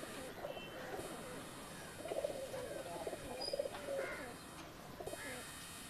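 Teddy pigeons, including a female, coo softly at a pigeon market in Bangladesh. Low repeated coos come in small clusters over a steady background hum, with a few faint chirps.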